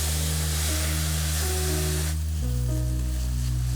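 Sparkling wine poured into risotto in a hot pan gives a loud, continuous sizzling hiss that drops sharply partway through, leaving a softer sizzle under a steady hum, with no talking.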